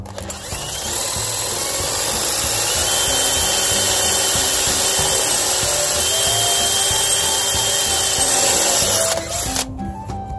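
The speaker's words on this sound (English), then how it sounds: "drill your pilot hole right here" A power drill fitted with a 3/16-inch bit bores a pilot hole for mounting a Fastway Flip Jack, a loud, steady whirring whine that holds for about nine seconds before stopping abruptly.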